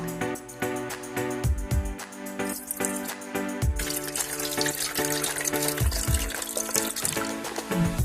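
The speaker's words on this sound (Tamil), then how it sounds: "புளி கரைச்சி எடுத்துக்கலாம்." Tamarind is squeezed and dissolved by hand in a bowl of water, with wet sloshing, squelching and dripping that rises and falls in short bursts. The sound is close, fairly loud and uneven, with no talking.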